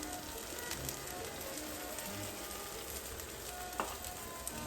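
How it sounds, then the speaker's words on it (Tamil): Onions frying with ground masala paste for potato masala, a faint, steady sizzle with scattered small pops and crackles, no voices. "இந்த மசாலாவோட பச்சை வாசம் போகிற வரைக்கும் வந்து நல்லா வந்து ஃப்ரை பண்ணணும்."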